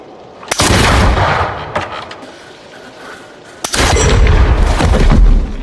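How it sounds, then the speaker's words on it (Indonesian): Gunshots in a film duel fought through a Japanese-style paper wall: a sharp blast followed by a long booming decay, then a second loud shot with a heavy rumbling tail, close and loud with no talk. "Yakob dan Basargin saling menembak dengan sekat berupa dinding kertas ala Jepang"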